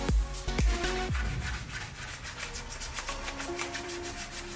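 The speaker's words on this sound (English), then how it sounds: "hand sand the rest of the edges that you won't be able to hit with the orbital sander" Close-up rubbing and scraping of sandpaper by hand against the edges of a car wheel rim in repeated strokes, with a few knocks at the start.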